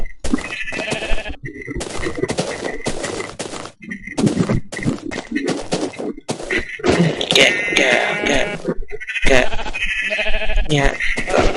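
Sheep in Minecraft bleat again and again, close and loud, over dull game thumps, with a voice talking throughout.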